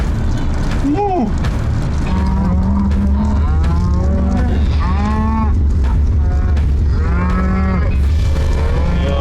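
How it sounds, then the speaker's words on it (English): Cattle on a cattle drive moo repeatedly, several long calls from different animals overlapping in a steady run beneath a constant low rumble of an idling car engine nearby. "We actually ran into a cattle drive, and they were leaving behind a lot."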